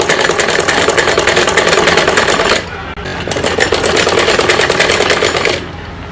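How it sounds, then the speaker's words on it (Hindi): An electric sewing machine stitches a folded two-inch waistband on a child's night suit, its rapid, even running broken by a brief pause near the middle and easing off at the end. "दो इंच में मोड़ के पूरी कमर पे हम सिलाई लगा लेंगे इसी प्रकार से।"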